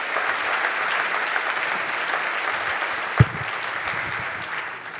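An audience at a conference keynote applauds in a dense, even wash of clapping that holds steady from start to finish, with a single louder thump partway through and no voice.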